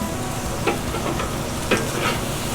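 Bitter melon and minced chicken sizzle steadily in a frying pan while a utensil stirs and scrapes through them in a few distinct strokes, close and alone.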